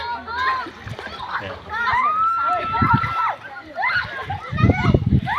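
Water splashes and sloshes as many people bathe in a river pool at Tinok, Tanay, Rizal, with children and adults chattering and shouting loudly over the nearby splashing.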